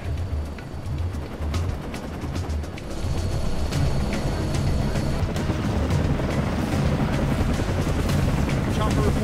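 Helicopter in the video game Command & Conquer Generals Zero Hour, a steady loud rotor and engine roar with rumbling battle noise, thickening partway through and holding strong, with no speech.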